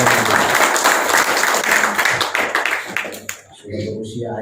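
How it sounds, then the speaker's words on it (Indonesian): Audience applause at a badminton association board inauguration in Jakarta, loud sustained clapping from a crowd that dies away near the end as a voice takes over on the microphone. "Kasih tepuk tangan dulu ya"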